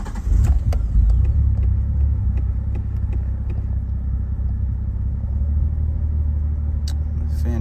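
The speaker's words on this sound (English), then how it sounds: "give it a start so you can see how it sounds" A 1996 Nissan Skyline R33 engine, slightly above cold, cranks and catches, then settles into a steady, deep idle rumble, loud and close, with a few clicks near the end.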